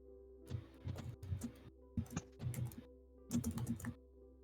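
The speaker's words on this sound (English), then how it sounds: "Now I'm typing as well." Typing on a computer keyboard, heard as quiet, close bursts of quick key clicks separated by short pauses, with no talk.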